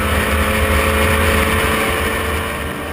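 Racing cars including a BMW Z4 roar past at Spa-Francorchamps during a Supercar Challenge race, with loud sustained engine drone and layered motors holding steady throughout.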